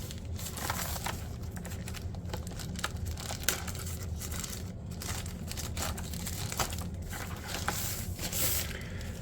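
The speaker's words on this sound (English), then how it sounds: "Get it out of its little bag." A retro mechanical keyboard is pulled from its plastic bag, giving continuous close crinkling and rustling of plastic with scattered louder crackles.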